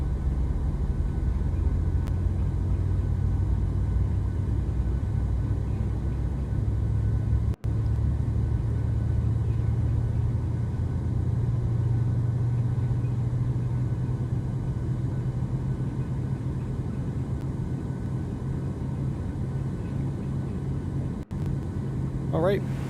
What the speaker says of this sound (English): Sounds like we have a good start of engine number 1 also.